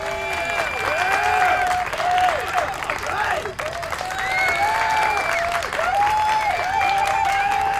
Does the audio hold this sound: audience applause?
yes